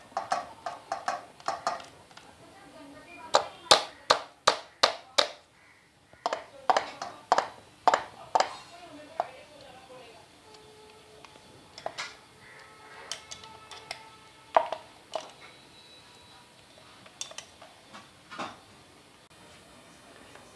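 Chicken is tossed by hand with onion, capsicum and chilli in a bowl, giving a series of close, sharp wet slaps and clicks in uneven bursts with quieter squelching gaps between them.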